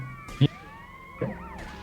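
A police car siren in the video game GTA Vice City wails with gliding electronic tones, mixed with two short thumps, near and moderately loud.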